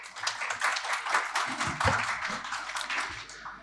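A conference audience at a paediatric ophthalmology guidelines session claps for supporters in a steady patter of moderate applause that fades toward the end.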